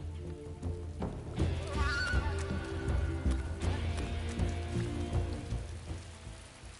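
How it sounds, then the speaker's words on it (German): Rain begins to fall in Metal Gear Solid 3, a steady patter under other game sounds, including what may be horse-like noises and a low rumbling backdrop. "Es fängt dann noch an zu regnen."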